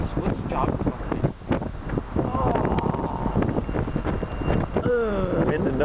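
Gusty wind buffets the microphone outdoors beside a railroad track, a rough rumble rising and falling throughout, with people talking over it.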